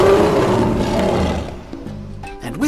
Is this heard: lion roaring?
yes